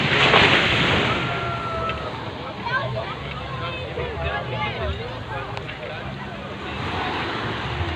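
Ocean surf rolling in at Jimbaran beach in Bali, a steady broadband wash of waves with wind buffeting the microphone and faint voices and activity in the background.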